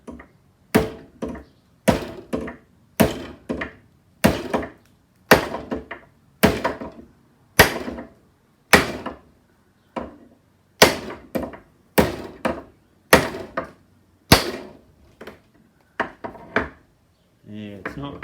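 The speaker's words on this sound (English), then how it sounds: "It's always a good day when you can hit something with a hammer." Heavy hammer blows strike metal one after another in a steady rhythm, about one strike per second, each a sharp, close thud with a short ring, during a motorbike build.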